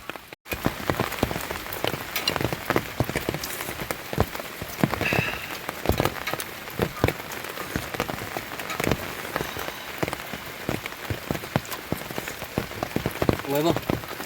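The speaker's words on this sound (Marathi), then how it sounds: "वरनं पावसाचे थेंब पडते" Raindrops patter steadily on surfaces outdoors at Vandri Lake in Palghar, a dense, continuous rain texture with sharper individual drips throughout and occasional faint voices in the background.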